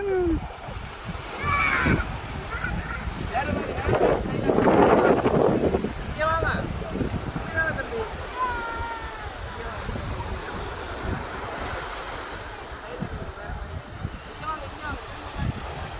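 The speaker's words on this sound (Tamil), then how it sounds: "தண்ணி வருது." Water waves splash and slosh nearby amid gusty wind, with people talking over the sound.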